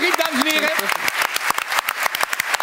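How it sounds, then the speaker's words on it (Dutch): Audience applause at a Dutch interview event, steady clapping from a crowd that runs throughout while a voice speaks over it at the start. "Daarmee, dat applaus is voor jullie."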